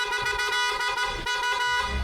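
A PIAA horn fitted to a Honda Giorno scooter blares in a steady, loud, continuous honk lasting about two seconds, its bright multi-tone blast heard alone with no talk.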